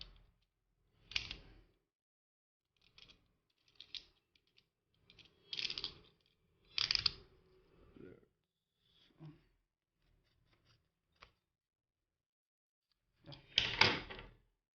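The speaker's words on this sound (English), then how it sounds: "Let's unbox it." A Cynova audio adapter box for an Osmo Action camera is unboxed in a quiet room, producing sparse, faint handling noises: scattered rustles, clicks and a few louder taps separated by silences.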